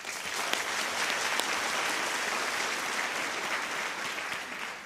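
Sustained applause from an audience at a Teachers of the Year awards ceremony honoring campus winners, a dense steady wash of many hands clapping throughout, fairly loud and even with no talk over it.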